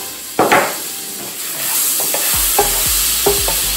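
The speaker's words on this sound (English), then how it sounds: "And then we're gonna be adding our garlic in." About four cloves of garlic sizzling in butter in a deglazed pan, a steady hiss with a bright burst as they go in, then several dull knocks of a spoon against the pan.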